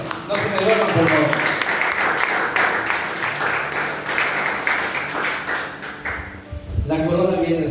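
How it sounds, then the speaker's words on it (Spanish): Sustained applause from a church congregation, loud and steady, mixed with scattered voices and music-like tones, fading briefly near the end before swelling again. "Denle un fuerte aplauso al Señor."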